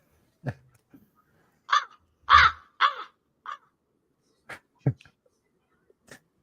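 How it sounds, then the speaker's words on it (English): Crow caws heard during an animated indoor scene: several harsh caws spaced across the stretch, moderately loud and clear, with short gaps of quiet between them. "you just hear A crow. a crow during this scene when they're inside."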